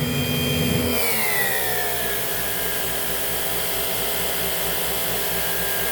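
Sebo C3.1 vacuum cleaner running steadily at close range during a nozzle suction test, a loud continuous whine whose pitch drops and settles after about a second, with no one talking.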